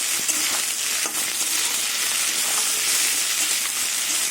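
Potatoes, onions, yardlong beans and slit green chilies fry in a pan with a steady, loud, dense sizzle that carries on unbroken, with no voices over it.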